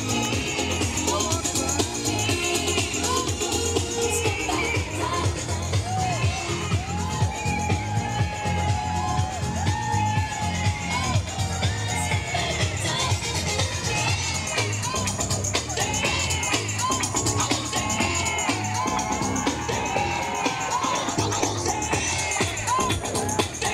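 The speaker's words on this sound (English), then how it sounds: "This is Brighton Pride, all the crowd having a great time here." Dense crowd noise at Brighton Pride, with many voices, occasional whoops and cheering, and music running throughout, while a nearby voice talks over the steady din.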